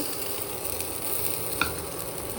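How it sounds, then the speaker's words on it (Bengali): Garam masala, bay leaf and cumin sizzling in hot oil in a pan, a steady close hiss with a faint clink partway through, no talking. "আর গরম মশলা তেজপাতা জিরে তেলের উপরে ছেড়ে দেবো"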